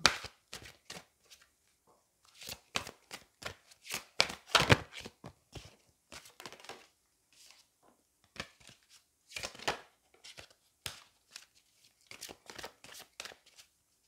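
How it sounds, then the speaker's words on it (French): Tarot cards being shuffled and drawn at close range, quick crisp riffles and flicks in irregular bursts separated by short silences, with no talking. "Je vais prendre une autre carte."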